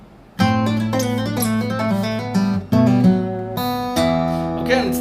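Fingerstyle guitar playing a passage of Brahms's Hungarian Dance No. 5, with plucked bass notes and melody ringing together, close and clear, with no one speaking.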